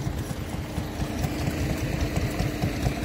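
A hit and miss stationary engine runs at an outdoor steam rally, giving a continuous low chugging with irregular rapid beats and moderate loudness, up close amid faint outdoor ambience.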